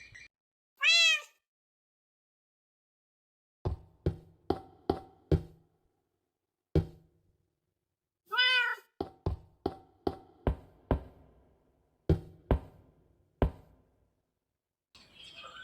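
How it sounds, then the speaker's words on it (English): A Minecraft cat gives two short meows, separated by bursts of crisp, evenly spaced tapping and knocking against near silence. "There is a cat."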